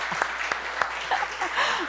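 Church congregation claps in welcome, a brief patter of applause in a hall, moderately distant and fairly soft, with a few sharper individual claps standing out.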